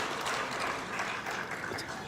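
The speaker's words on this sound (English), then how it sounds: "give her a big hand of applause" Clapping from a summit audience greets a professor welcomed onto the stage, a moderately quiet, continuous patter of many hands in a large room.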